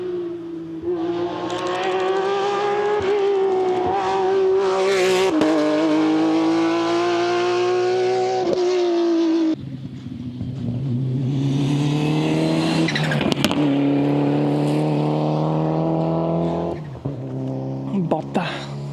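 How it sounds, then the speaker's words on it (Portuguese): Porsche rally car on a Vale de Cambra rally stage, its engine loud and close, revving hard with rising and falling pitch through gear changes as it approaches and passes, with brief tire noise. "Está aí a ver um Porsche."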